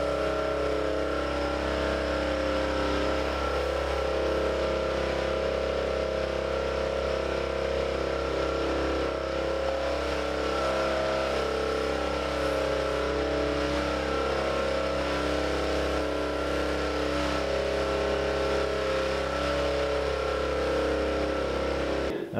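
A pressure washer blasts mold-damaged material off a house wall with a continuous, steady motorized drone and hiss that runs unbroken for over twenty seconds.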